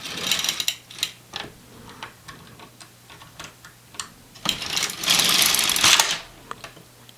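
A knitting machine carriage slides back and forth over the needle bed in repeated passes, with rapid mechanical clicks and ticks and a louder rasping sweep near the end.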